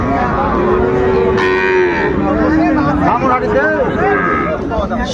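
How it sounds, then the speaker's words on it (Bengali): A young Sahiwal bull calf gives a long, low moo followed by more lowing calls, close by, amid a busy background of people talking and bargaining at a cattle sale. "শাহিওয়ালের ষাঁড় বাচ্চা"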